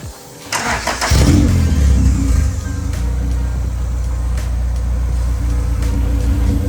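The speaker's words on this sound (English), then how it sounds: "That's a much nicer idle, and it has a better, way better throttle response." A Honda CRX drag car engine cranks and catches, then settles into a loud, steady, rumbling idle close by, with no talk.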